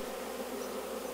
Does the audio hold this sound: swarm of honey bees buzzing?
yes